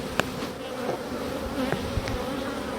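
Honeybees buzz steadily around an open hive as its frames are lifted and inspected, a dense close drone with a few faint handling clicks and knocks.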